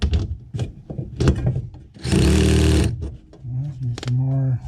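A power drill with its clutch engaged whirs in one short loud burst while driving a screw for an EV charger mount, amid clicks, handling noise and someone talking.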